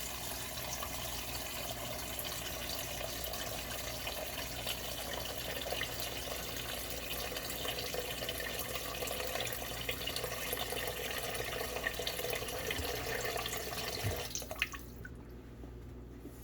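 Water from a tap runs steadily over raw chicken being rinsed, a continuous broadband rush, then cuts off abruptly near the end, leaving quiet.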